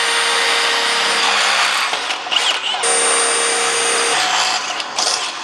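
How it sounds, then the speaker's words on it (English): A power drill bores holes through the tongue of an Ultra-Tow 4x8 folding trailer, a steady close whine that dips and resumes in a few short bursts. "I need to drill a hole in the back on both sides"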